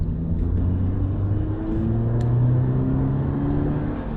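A 2022 car fitted with a Borla S-Type catback exhaust pulls away, its deep exhaust rumble rising and wavering steadily under moderate loudness, with no voices over it.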